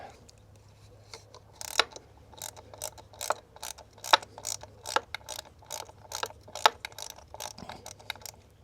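A ratchet clicks in quick, irregular bursts, close and fairly quiet, as it loosens the 7mm bolts holding the ignition coils on a Jaguar XK8 engine.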